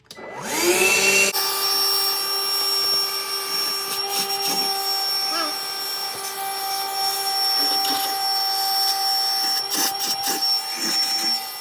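A Super Sucker 9000 shop vacuum in a workshop spins up with a rising whine, then runs with a loud steady roar and high whistling tones for about ten seconds while a few faint bumps and rattles break through.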